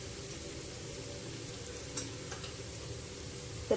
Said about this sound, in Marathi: जरा लो फ्लेमवर ठेवून हे परतायचं